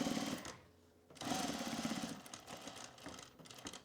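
A sewing machine stitches the back pocket of a pair of sweatpants, its motor running in short bursts with a brief pause near the start, close and fairly quiet, with no talking.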